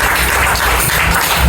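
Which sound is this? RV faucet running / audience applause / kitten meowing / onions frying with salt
audience applause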